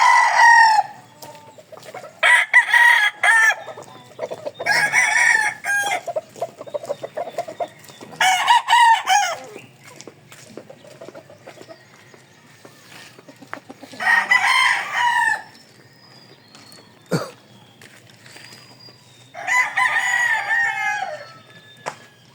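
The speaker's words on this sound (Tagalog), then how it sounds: "Ito na yung mga stag. May panglaban sa linggo." Young fighting roosters (stags) crowing loudly several times in turn, with softer clucks and farmyard noises in the pauses between crows.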